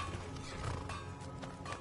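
Horses in the Skyrim VR video game give quick hoof clip-clops and a brief whinny, moderately faint over a low game background with no speech.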